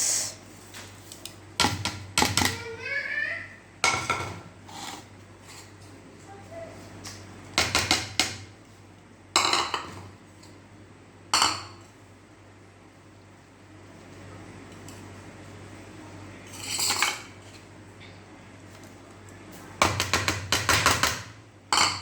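Gram flour being mixed by hand or spoon with chopped tomato, green chilli, fresh coriander and onion in a bowl for vegetable kababs, giving intermittent knocking, scraping clinks and clatter in short bursts with quiet gaps between.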